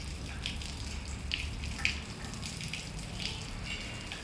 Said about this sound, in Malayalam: ഞാൻ ചെടിക്ക് വെള്ളം വെച്ചോണ്ടിരിക്കുക